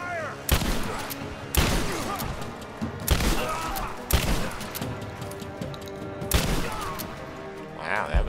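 Heavy gunfire in Rise of the Tomb Raider, with loud repeated volleys of shots in bursts roughly once a second, thudding impacts and game music beneath.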